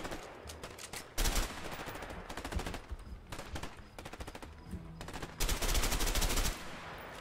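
Rapid automatic gunfire from A Way Out, sustained bursts lasting up to a second each, loud and close, repeating across the whole stretch with brief gaps and no talk over it.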